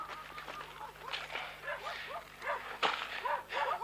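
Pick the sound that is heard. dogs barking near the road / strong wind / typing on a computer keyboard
dogs barking near the road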